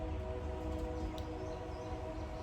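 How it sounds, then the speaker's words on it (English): A train rumbles past at a distance, a steady low drone with faint tonal lines that holds evenly throughout, with no talk. "There's a train in the background now."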